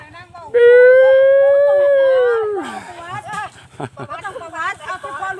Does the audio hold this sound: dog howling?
yes